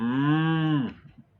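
A person imitates a cow mooing with one long, loud, steady low moo that ends abruptly, alone with no other talk.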